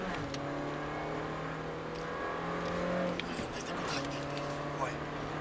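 A race car accelerates on a track, its engine a steady sustained drone with a rising tone, heard close and continuous while people talk over it.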